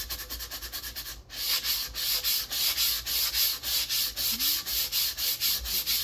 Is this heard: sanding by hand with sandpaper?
yes